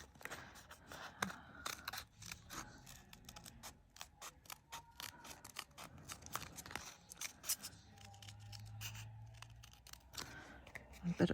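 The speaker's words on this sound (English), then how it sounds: "these little scissors are really nice for fussy cutting." Small scissors snip paper in quick, irregular clicks and short cuts, close up, with a faint low hum partway through.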